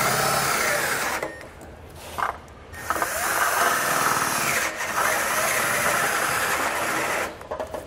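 A power drill with a step bit enlarges holes in a vehicle's frame while fitting a Curt trailer hitch to a 2020 BMW X1. Loud whining drill bursts run in several long passes, with brief pauses between them.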